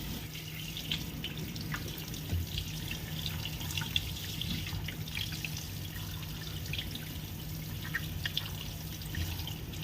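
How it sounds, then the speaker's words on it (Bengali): Pomfret fish being rinsed by hand under a running kitchen tap, a steady wash of water with small splashes and drips throughout, fairly close. "তো মাছটাকে আমি ধুয়ে নিচ্ছি ভালো করে।"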